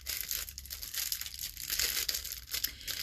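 Cheap plastic gadget packaging from an online bargain order crinkles and rustles as it is pulled open, a steady close-up crackle lasting about three seconds with no voice.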